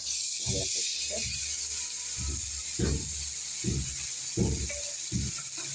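Fish frying in hot oil on a tawa pan gives a steady, close sizzle and hiss throughout, while a voice speaks intermittently over the frying.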